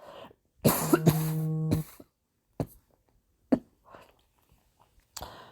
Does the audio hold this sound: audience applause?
no